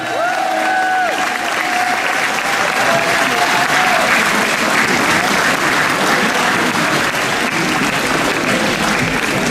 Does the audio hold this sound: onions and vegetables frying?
no